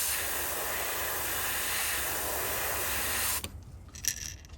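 An airbrush hisses in a steady, close spray as turquoise paint is laid onto a shad fishing lure, then cuts off abruptly near the end, leaving faint handling noises.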